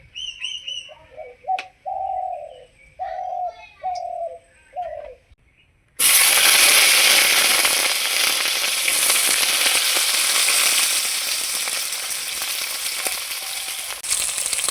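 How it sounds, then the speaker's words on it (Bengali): Eggplant frying in mustard oil in a wok on a gas stove bursts into a loud, continuous sizzle, preceded by birds cooing and chirping nearby. "সর্ষের তেল দিয়ে প্রথমে আমি বেগুনগুলোকে ভেজে নেব"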